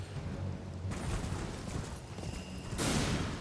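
A horse gallops in Elden Ring, rhythmic hoofbeats thudding steadily over rough outdoor ambience, with a burst of louder noise near the end and no talking.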